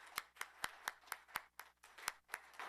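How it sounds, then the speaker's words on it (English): Hands clap at a company CEO chat event, a sparse, steady series of sharp individual claps, fairly quiet and close, like only a few people applauding. "I'm going to leave on applause and have Kelly come up."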